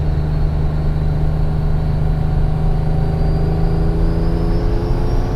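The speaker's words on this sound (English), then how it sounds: "See if I can brake boost it a little." A BMW N54 335i holds a loud, steady engine roar while brake boosting at a roll racing event, the drone rising slightly in pitch across several seconds, no talk.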